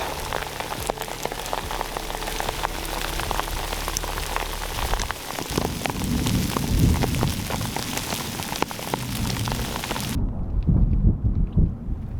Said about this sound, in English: fortunately, I survived the lightning storm.